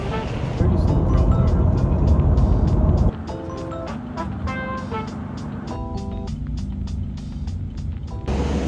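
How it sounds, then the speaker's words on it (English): Busy Shanghai city street traffic with many cars, including lots of electric cars, hums steadily nearby while rapid regular beeps and horn-like tones sound through it and people talk over the top. "first impression of the streets in Shanghai city, pretty crazy"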